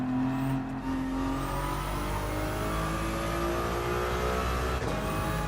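A race car engine in a racing video game revs steadily and loudly with a whining, slightly hollow tone, pitch sweeping up and down across shifts, with no speech.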